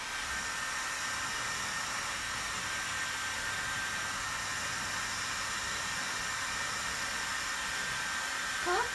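A hair dryer blows with a steady, loud, airy hiss that stays constant from start to finish, with a faint thump near the end.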